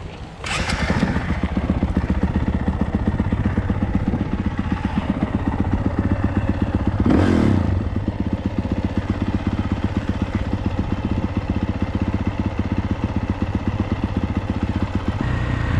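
A motocross motorcycle on a track, engine droning steadily and close throughout with a loud revving surge around the middle, recorded on board during an evening moto with other riders in traffic.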